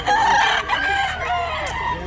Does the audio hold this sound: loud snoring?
no